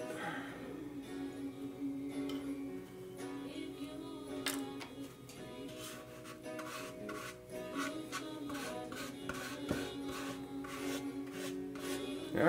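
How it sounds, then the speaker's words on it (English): A spatula spreads and scrapes filler across the wooden body of a soprano ukulele, making soft rubbing strokes in an irregular rhythm, close and quiet, over a faint hum from the room. "As long as I'm using a spatula like they use for Bondu."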